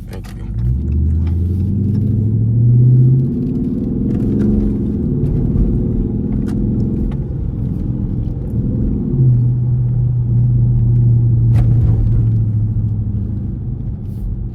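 A Dodge Charger R/T driving in track mode rumbles deeply from inside the car, heard close and loud, with its revs climbing twice in long swells between stretches of steady cruising.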